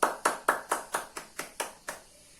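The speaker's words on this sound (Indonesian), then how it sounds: "Oke, bisa tepuk tangan buat kalian semua." A classroom of students claps in unison, about nine sharp, evenly spaced claps, close and clear, fading slightly toward the end with a brief ring after the last one.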